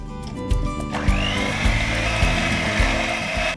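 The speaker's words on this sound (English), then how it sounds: "I'm going to whisk this all together" Cake batter with olive brine and sugar being whisked by an electric mixer, a loud, close, steady whir broken by regular bumps as the beaters knock the bowl.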